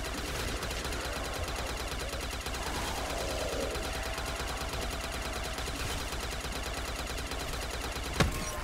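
A PPSh submachine gun fires continuously in Black Ops custom zombies, a dense unbroken rattle of rapid shots at steady loudness, with a brief sharp burst near the end.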